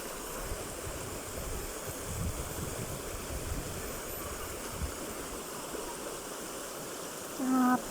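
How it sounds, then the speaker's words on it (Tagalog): Water flows steadily in a stream, a continuous rushing wash with a touch of wind, heard alone at moderate volume and ending with a brief faint tonal sound. "Ang sarap pakinggan ng agos ng tubig."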